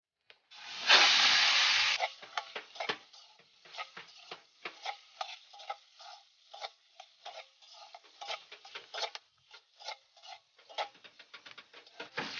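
Pork belly (kasim) fries in oil until crispy and brown, with a loud initial hiss as the meat goes in, then settling into steady close crackling and popping spits.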